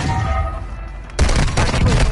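Rapid gunfire bursts from a shooter video game erupt suddenly and loudly after a quieter stretch, then continue as dense, overlapping shots.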